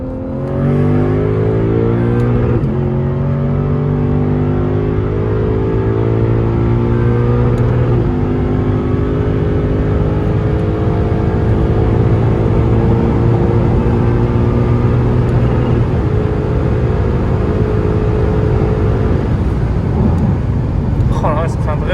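Lexus RCF sports car engine revving hard and climbing through the gears, loud and close with a steady rising roar and brief shift dips, people talking over it.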